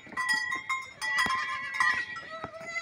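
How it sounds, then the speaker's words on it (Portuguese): Sheep on a farm bleat, including a newborn lamb. There are several wavering calls, near and fairly quiet, some overlapping and repeating in quick succession with short gaps. "a novinha do ano passado, essa novinha de ovelha"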